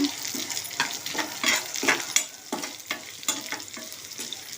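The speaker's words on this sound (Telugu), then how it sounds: "ఇలా నూనెలోనే దోరగా వేయించుకుందాము" Onions, curry leaves and cumin fry loudly in hot oil, a close, steady sizzle broken by rhythmic scrapes of a spatula stirring the pan.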